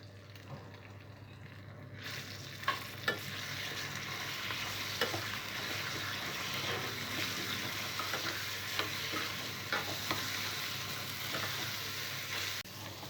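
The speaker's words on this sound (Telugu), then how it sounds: "తాలింపు ఫ్రై అయిన తర్వాత మనం ముందుగా నూరుకున్న పచ్చడి వేసుకోవాలి." Ground peanut and raw mango chutney sizzles steadily in a hot tempering of garlic, dried red chillies and curry leaves, with a continuous fry hiss and occasional soft stirring clicks, close and alone.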